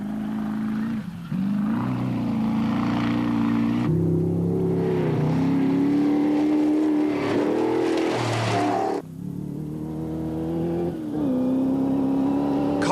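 A rally car at the 1993 Welsh Hill Rally races at full throttle, its engine screaming loud and close and climbing in pitch through repeated gear changes, with brief lifts between shifts.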